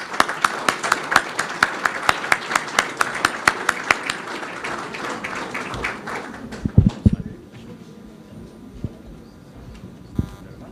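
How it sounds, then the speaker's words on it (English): An audience at a London celebration of the 39th anniversary of the Turkish Republic of Northern Cyprus applauds an ambassador: sharp, individual claps ring out steadily for about seven seconds, then thin out to a few scattered claps and quiet room noise. "With a big applause, please."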